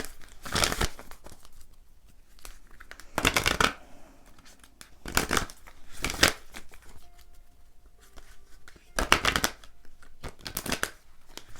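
Tarot cards shuffled and drawn during a reading, several short papery riffling bursts separated by quiet pauses, close and fairly soft.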